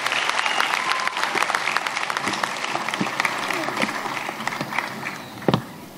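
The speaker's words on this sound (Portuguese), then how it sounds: "Uma salva de palmas aqui para o Cota, que veio do Ambo para poder nos abrilhantar." An audience at a year-end show applauds a guest, dense steady clapping from a crowd that fades slightly toward the end, with a sharp bump just before it stops.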